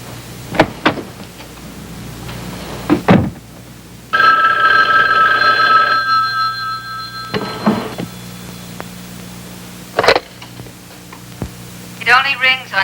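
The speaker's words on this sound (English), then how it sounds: "It only rings on intercom, Bubba, so it's all right to answer it." Intercom telephone in an office ringing, a steady buzzing ring lasting about two seconds, near and loud, with brief knocks and a voice around it.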